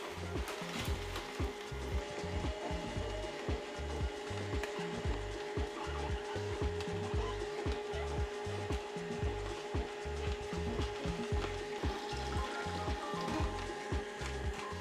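A Canoly C16 cold press juicer runs steadily, a continuous low motor hum with a rhythmic grinding, crunching pulse from the auger working produce, close and even throughout, with no talking.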